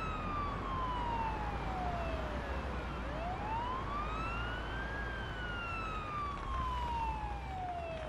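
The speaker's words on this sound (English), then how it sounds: "I'm gonna put siren on and go through." An ambulance siren in a paramedic simulator video game wails, sweeping slowly up and down in pitch over a steady rumbling traffic background, loud and continuous.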